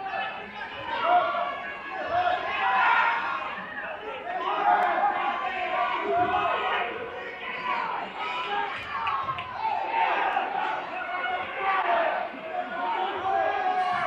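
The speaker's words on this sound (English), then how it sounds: "Crowd starts to get in it with 20 seconds left." A crowd in a high school gym cheers and chatters steadily through the closing seconds of a tight wrestling match, a dense, sustained roar of many voices with a few louder shouts rising out of it.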